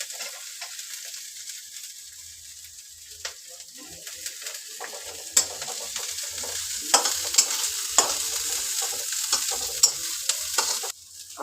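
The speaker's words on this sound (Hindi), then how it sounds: "प्याज और गोभी का कलर रेड होने तक अभी हम चलाएंगे ऐसे ही" Onion and cauliflower fry in a pan and are stirred, giving a steady close sizzle broken by scattered scraping knocks from the stirring utensil.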